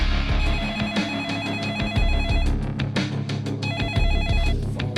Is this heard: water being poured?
no